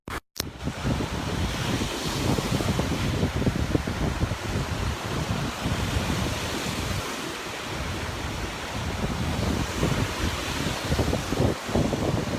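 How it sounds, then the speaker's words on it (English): Gusty wind buffeting the microphone at a beach with waves and water rushing steadily underneath, loud and continuous with no talking. "It's a beautifully windy, gusty day, and the water,"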